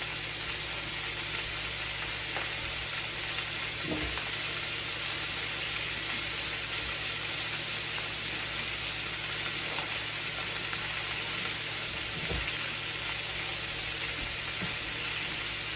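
Beef steak, cut from leftover pot roast, searing in a pan with a steady, close, broadband sizzle that holds evenly throughout, with a few faint knocks and no talking.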